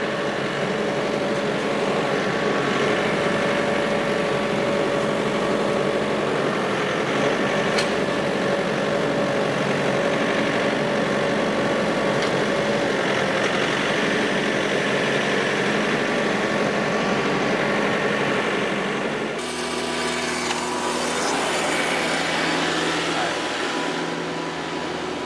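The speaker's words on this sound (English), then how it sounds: "I know idling these new tractors down is not what you're supposed to do" A new tractor engine idles with a steady, moderately loud low drone that holds for a long stretch before its tone shifts abruptly near the end.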